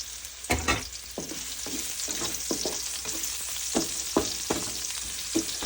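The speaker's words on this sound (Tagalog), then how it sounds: "Lagyan natin yung sibuyas." Sliced onions sizzling in a hot pan for arroz caldo, a bright continuous fry hiss punctuated by repeated stirring scrapes, close and loud with no talk.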